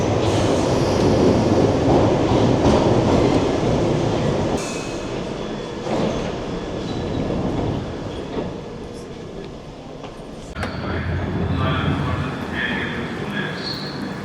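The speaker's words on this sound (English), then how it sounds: "we are heading to Covent Garden on the Piccadilly line." London Underground Piccadilly line train riding toward Covent Garden, a loud steady rumble of the carriage with rattling and clatter, easing in intensity midway and then rising again.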